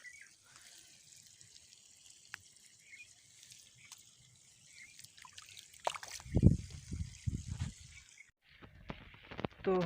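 Water trickles and splashes while plants are watered, a faint steady flow at first that turns into louder, close gushing spatters in the second half, with some soft background voices.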